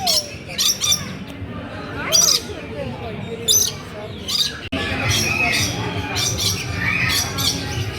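A bird on a family outing lets out repeated harsh squawking calls in short bursts, close and clear, with people talking in the background.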